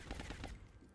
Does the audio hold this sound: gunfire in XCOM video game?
yes